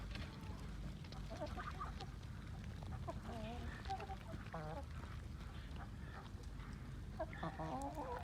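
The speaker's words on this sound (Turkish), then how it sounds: "Evet, Amerikan ördeklerimize bunlar arkadaşlar." Muscovy ducks on a farm make soft, breathy quacks and hisses scattered throughout, over steady outdoor background noise, with a voice faintly talking.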